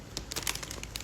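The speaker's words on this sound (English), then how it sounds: "Let me shuffle a little bit." Tarot cards shuffled by hand, giving quick papery riffles and soft flicks in a close, fairly quiet burst with no talking.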